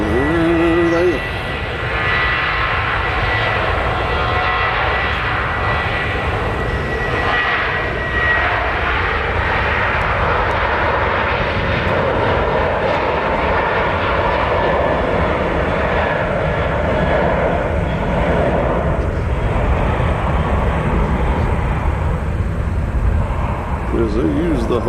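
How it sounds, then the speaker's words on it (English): An Avelo airliner departing Nashville International Airport for Rochester roars on takeoff, a loud sustained engine drone swelling and holding throughout, with speech heard over it. "our next departure should be Avello going to Rochester"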